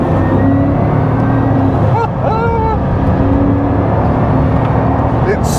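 Bugatti Chiron Pur Sport with its 1500-horsepower engine cruising on a public road, a loud steady engine drone and road rumble heard from inside the car, with someone talking over it.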